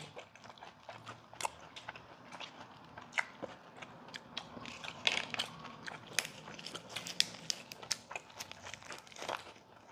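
Close, crisp chewing and crunching of food with deodeok root and vegetables, with irregular bites and munches repeating quietly over a soft background.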